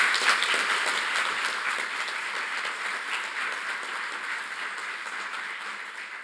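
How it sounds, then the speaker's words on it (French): Steady applause from an audience at a live French event about influencers, many hands clapping evenly for about six seconds at moderate loudness, with no voices over it. "Merci d'applaudir Karim Nar."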